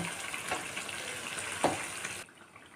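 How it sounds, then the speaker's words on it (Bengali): Chicken being sautéed with spices and onion paste in a pan, a steady close sizzle with a couple of brief stirring scrapes, cutting off abruptly near the end into quiet. "সবগুলোকে ভালো করে কষে নেব"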